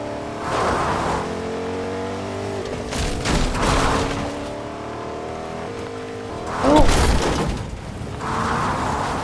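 A car driven in Fortnite Chapter 3 Season 1, its engine droning and revving with rising passes and bursts of acceleration, loud and close, with brief talk in places.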